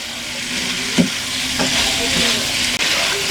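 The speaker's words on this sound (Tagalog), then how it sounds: "Halu-haluin natin hanggang maging brown na ang pinaka outer layer niya." Pork belly seasoned with pepper fries in a pan with a steady bright sizzle, while a utensil stirs it with a few soft scrapes and knocks, close and continuous.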